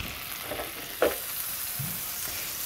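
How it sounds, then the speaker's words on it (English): A soft, steady sizzle of butter melting in a hot skillet hisses quietly, with a faint clink or two from the pan. "And you're going to drop in your butter. Hear that nice sizzle."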